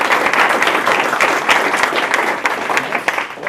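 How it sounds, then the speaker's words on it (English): A room full of club members applauds a visiting senator, the dense, energetic clapping close and sustained for several seconds with individual hand strikes popping out of a continuous roar. "So let's give him a round of applause."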